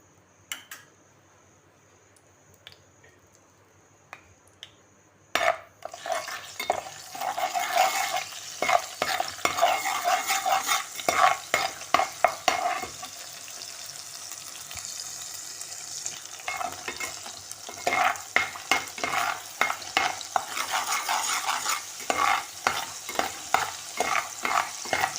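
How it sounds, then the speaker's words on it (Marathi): Ginger-garlic paste dropped into hot oil for a clam masala: near silence, then an abrupt loud sizzle burst that continues with rhythmic stirring scrapes and spatters, close and without talk. "तेल तापलं आहे, त्याच्यामध्ये ही आला लसूणची पेस्ट घालते"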